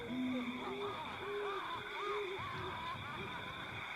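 Owl hoots in a spooky outdoor night scene, several soft wavering calls repeating over a steady hum and rustling background.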